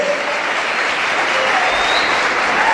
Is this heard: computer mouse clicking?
no